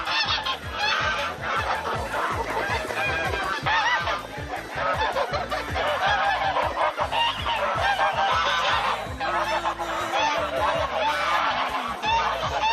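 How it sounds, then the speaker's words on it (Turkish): A dense flock of geese honking loudly and continuously on a village farm with chickens and roosters, overlapping calls from many birds close by with a busy, clamorous farmyard feel. "Kazlar, tavuklar, horozlar"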